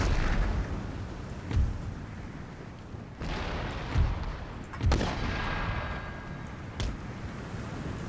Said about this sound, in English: Artillery, go get rid of them.